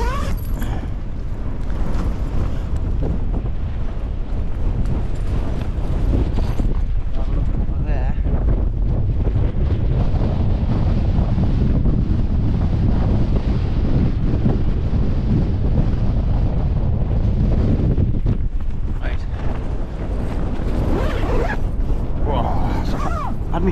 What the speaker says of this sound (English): This wind's getting worse